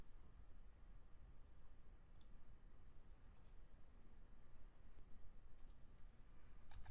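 Keys tapped on a computer keyboard while entering a command, a few faint light clicks in small clusters over a quiet, steady room hiss.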